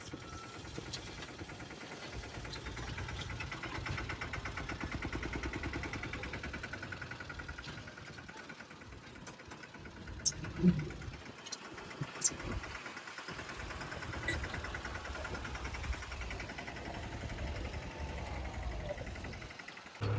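A mini tractor engine idles and runs steadily with a low, rumbling drone, joined by a few scattered clanks and knocks partway through.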